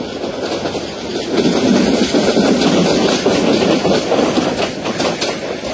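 Mohanagar Godhuli Express rolling along the up line toward Dhaka, a steady loud rumble of wheels and carriages with rhythmic clatter throughout, swelling slightly midway.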